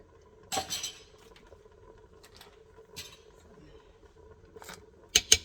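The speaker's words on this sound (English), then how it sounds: "And just make sure you stir it well." Vegetable biryani rice stirred in an Instant Pot, a few separate bursts of spoon scraping and clinking against the metal inner pot with quiet gaps between them and a rapid clatter at the end.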